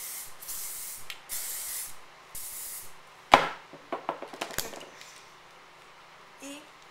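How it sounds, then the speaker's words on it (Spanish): Hairspray sprayed onto styled hair: several soft hissing bursts of an aerosol can, close and fairly loud, with quiet handling clatter and taps following. "Spray."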